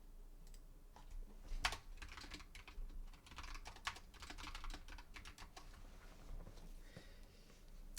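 Computer keyboard typing, quiet, continuous irregular key clicks heard at a low level with a faint background hum.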